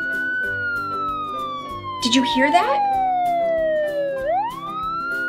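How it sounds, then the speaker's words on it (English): A loud emergency-vehicle siren wails in a long, slowly falling sweep, then abruptly swoops back upward, alongside a brief burst of other sound midway, while a voice speaks over it. "It sounds like a siren."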